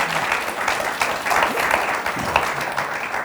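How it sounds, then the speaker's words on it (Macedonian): A studio audience at a talk show claps loudly and steadily throughout, a dense, continuous wash of many hands close up. "Аплауз."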